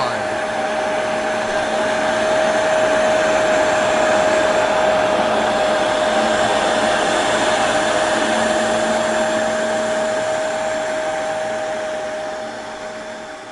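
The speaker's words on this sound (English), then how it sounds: "This is a very powerful carpet cleaner." A Bissell Powerforce Powerbrush Pet carpet cleaner runs loud and close with a steady motor whine, constant through the clip before easing slightly at the end.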